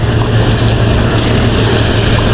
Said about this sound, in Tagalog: pinaanda na ni doktor at saka ni Panday Hiwi yung ating makina dahil andaran na daw